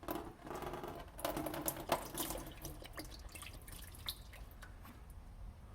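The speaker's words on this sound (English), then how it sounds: "Okay, I'm emptying it out this way." Power steering fluid draining out of a line during a pump replacement on a 1994-2002 Dodge Ram, dripping and trickling in an irregular patter that is steady and close, with no talk over it.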